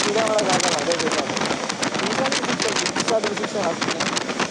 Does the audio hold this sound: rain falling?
yes